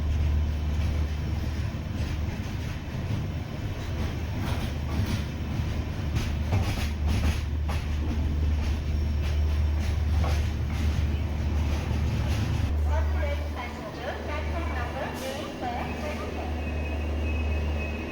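Pamban Express from Tambaram rolling into Rameswaram, a steady loud rumble of rail cars with low wheel drone throughout, easing and changing tone near the end as the train slows on arrival.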